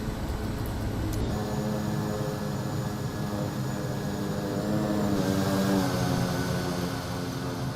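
Bush plane propeller engine held at full throttle in Microsoft Flight Simulator 2024, a steady droning hum with a constant tone that rises slightly in pitch partway through, moderately quiet and without talk.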